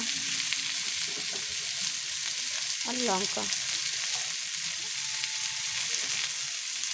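Onions sizzle steadily in hot oil in a pan, a continuous crackling hiss, while a voice briefly speaks partway through.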